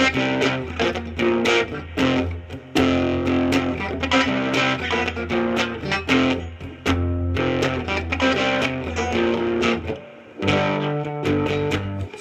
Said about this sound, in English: So that's with the distortion if you have that on your amp.